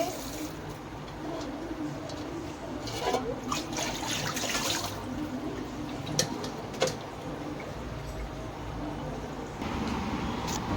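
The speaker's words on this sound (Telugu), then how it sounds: "అలా స్ట్రైనర్లో వేసుకున్న తర్వాత చల్లని వాటర్ కూడా ఒకసారి ఇలా వేసుకోవాలి" Cold water is poured over boiled potatoes sitting in a strainer, a soft continuous splash under a low voice, with a few small clinks.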